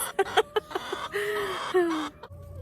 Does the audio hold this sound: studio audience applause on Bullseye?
no